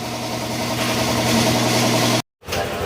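A car engine idles steadily with a constant low hum and vibration while the coolant thermostat is being checked on a cooling system clogged by mixed coolants; the sound cuts out abruptly for a moment near the end, then resumes.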